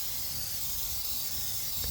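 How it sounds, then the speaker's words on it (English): A detailing spray gun sputters as it sprays thick dressing, giving a steady airy hiss with uneven texture throughout, close and fairly quiet, with no talking. "the spray was sputtering inconsistently, which is not what I wanted to see"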